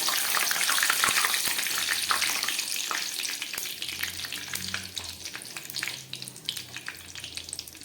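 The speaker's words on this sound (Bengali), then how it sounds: "এই আলু ভাজার তেলের মধ্যে আমি একটু গরম মশলা ফোড়ন দিচ্ছি।" Whole spices, green cardamom, cinnamon and a dried red chilli, hit hot potato-frying oil with a loud, steady sizzle and crackle, broken by sharp clicks of stirring, with no talk.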